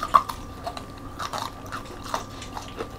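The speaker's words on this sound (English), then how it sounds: "Just get in there and crunch them up." Close, irregular crunching bites and chewing of Cheetos-coated boneless chicken wings, soft crackly snaps scattered over a few seconds with no talking.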